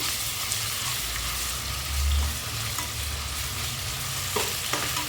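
Ginger frying in a pan of oil for goat head curry, a constant crackling sizzle at close range with scattered stirring taps and a low hum beneath, no voices.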